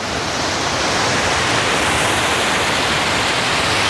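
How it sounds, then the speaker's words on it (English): Loud, dense rushing water roars without pause, a broad steady wash like a cascade falling nearby, from waterfalls flowing between lakes at Plitvice Lakes. "all of the waterfalls flow from one lake to the next to the next"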